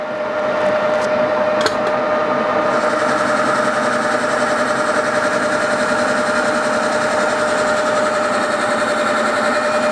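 An SNNC 392 alloy workpiece turned on a lathe with a 1mm cut: a steady, loud mechanical hum with a clear whine running throughout, plus a few brief clicks early on.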